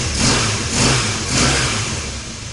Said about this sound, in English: I'm going to let it idle for probably 5 or 10 minutes to let everything warm up